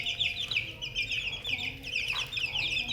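Young Bangkok chicks of a Burmese line, clucking and peeping in rapid, overlapping high chirps close by, with a faint voice in the background.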